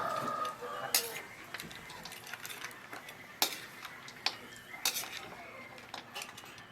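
Meat mixed with ground charred coconut stirred in a wok, with repeated sharp metal scrapes and clanks of a utensil against the pan at an irregular pace.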